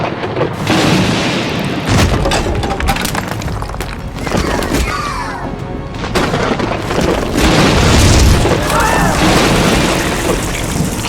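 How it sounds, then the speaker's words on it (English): Lightning striking a house in a miniature construction scene, heard as loud, dense crashing booms and shattering noise that run for several seconds, with a sharp burst near the start. "Lightning just hit our house."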